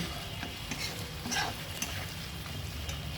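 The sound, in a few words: sautéing shrimp with spices in a pan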